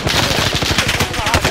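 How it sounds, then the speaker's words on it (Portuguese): Rapid automatic gunfire in Call of Duty: Modern Warfare, a loud, tight burst of repeated shots firing in quick rhythm throughout. "Tiro aqui!"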